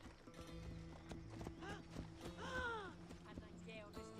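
A horse in the video game Assassin's Creed Odyssey, with steady clip-clop hoofbeats and a brief whinny partway through, set against faint in-game ambience and music.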